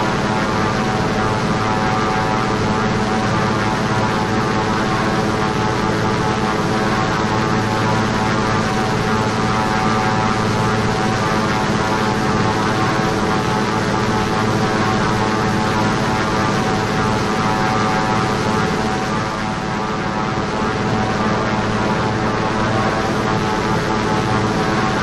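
Thranda Beaver propeller aircraft engine droning steadily in the X-Plane 11 flight simulator, a constant loud hum with a dense buzzing texture and no change for the whole stretch.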